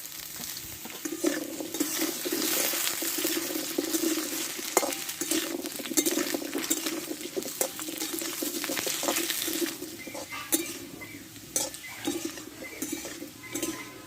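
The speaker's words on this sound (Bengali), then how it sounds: "দেখো এতে আমি কচুগুলাও দিয়ে দেবো, দিয়ে একসঙ্গে সবগুলো কষে নেব আলুর সঙ্গে" Taro and potatoes sautéing together in a pan for a vegetarian dish, a steady sizzle under brisk stirring with repeated scrapes and clinks of a utensil against the pan, close and continuous.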